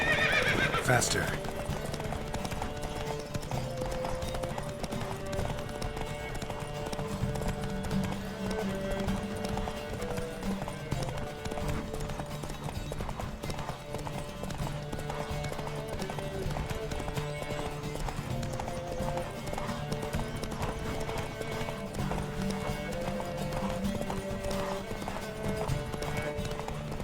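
Rapid hoofbeats of galloping horses pound continuously in a horse race in The Witcher 3: Wild Hunt, with a whinny near the start and a steady rumble throughout.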